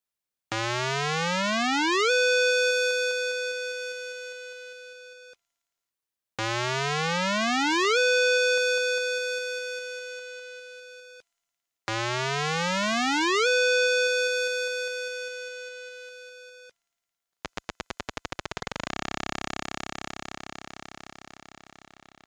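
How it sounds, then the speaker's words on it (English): IBM PCjr sound generator chip test tones: three identical rising chirps that settle into steady buzzy notes, separated by silences, followed by a harsher clicking tone that fades. "let's test the sound generator chip as well"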